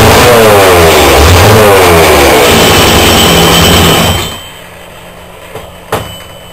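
A small shop engine fires up on choke and revs hard with loud, rough, clattering roaring. It then cuts out, leaving a quiet room with a couple of faint knocks.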